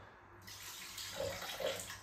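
Water running quietly from a tap while being measured for cooking porridge, a soft faint gushing stream that starts after a moment and continues, no talking.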